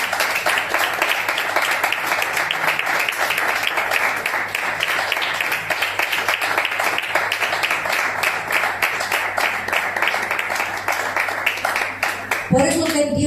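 A church congregation clapping hands, loud sustained rhythmic clapping from many people filling the room for several seconds, with singing or voices mixed in, ending abruptly near the end.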